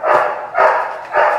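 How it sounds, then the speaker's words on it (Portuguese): Three loud, close dog barks come in an even rhythm, each a short sharp burst, with no talking over them. "Meu Deus, cachorro!"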